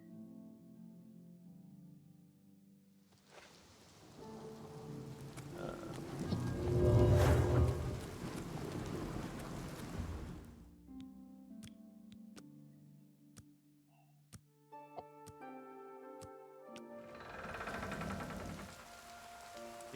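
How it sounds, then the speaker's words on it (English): Rain falls in the video game TES: Oblivion as the player returns to the town of Anvil, a soft steady patter under swelling orchestral game music with scattered sharp ticks, fairly quiet and with no talking. "It's raining."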